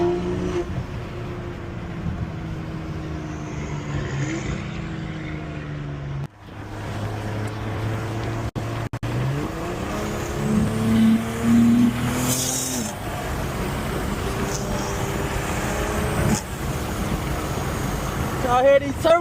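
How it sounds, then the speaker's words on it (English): A car fitted with a 6870 turbo accelerates through traffic, its engine droning and climbing with turbo whine and spool, a sharp cut near the middle, then building again, heard from inside the cabin. "Y'all hear these turbo noises, man?"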